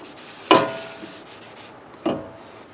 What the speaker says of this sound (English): I'll wipe it down again